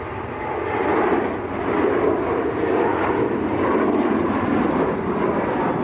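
A Ryanair airliner at Manchester Airport roars past with a broad, steady jet rumble, loud and sustained throughout.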